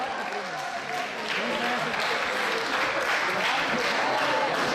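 Guests at an Armenian school party clap together in a dense, steady applause that builds slightly and holds, with a voice speaking over it at the start.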